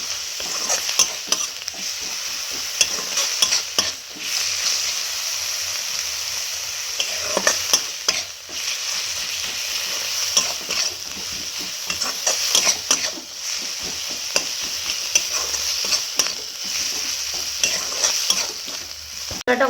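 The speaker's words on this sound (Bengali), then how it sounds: "2 চামচ হলুদ গুঁড়ো দেবো, 1 চামচ লবণ দিয়ে দেবো, দিয়ে ভালো করে মশলাটা কষিয়ে নেব।" Spice paste with cumin powder, turmeric and salt fries in a pan while being stirred for a fish curry with taro and eggplant, a continuous sizzle broken by frequent close scraping strokes of a spatula.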